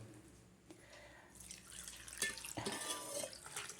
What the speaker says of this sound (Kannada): ಇದಕ್ಕೆ ಎರಡು ತಂಬಿಗೆಯಷ್ಟು ನೀರನ್ನು ಹಾಕೋದು